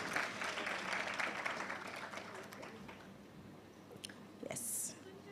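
Applause rises from an awards ceremony audience for civil servants, a broad wash of clapping that peaks early and gradually thins, with a few murmured voices underneath.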